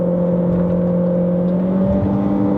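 Chery Tiggo Cross 1.5 HEV engine held at full throttle on a mountain climb, a steady droning whir with tonal hum, heard from inside the cabin.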